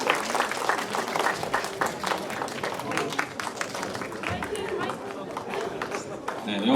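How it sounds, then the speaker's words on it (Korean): Audience applause for first-year class 2 students at a school chapel service, steady dense clapping mixed with crowd chatter and cheers, filling the room throughout. "우리 수고한 1학년 2반 친구들 다시 한번 박수해 주시기 바랍니다."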